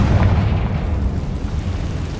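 A Confringo fire spell explodes in the Hogwarts Legacy video game, a loud sustained booming blast with heavy low rumble that holds steady without fading.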